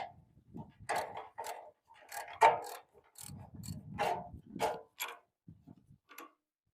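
A hand-cranked machine splits garlic bulbs into cloves, giving close, irregular bursts of clattering knocks and rattles with brief pauses between turns.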